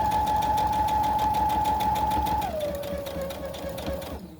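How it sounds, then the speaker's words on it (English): Sewing machine stitching a pillow seam, a steady close whir that drops to a lower pitch partway through as it reverses to reinforce the stitch, then stops abruptly near the end. "I'm going to reverse a little bit to reinforce that stitch"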